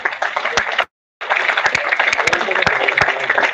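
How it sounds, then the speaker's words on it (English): Applause from an audience at a finance conclave, dense clapping close to the microphone that cuts out abruptly for a moment before resuming just as full and steady. "Let's have a huge round of applause for sir."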